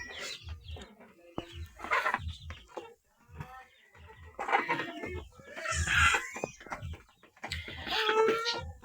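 Black Australorp chickens cluck close by in short, scattered bursts, with a person speaking intermittently over and between the clucks.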